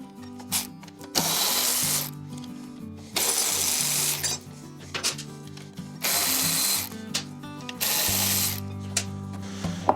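Bolts being removed from the gas tank of a Benelli TnT 135 motorcycle with a power tool, four loud whirring bursts separated by short pauses and small metallic clinks.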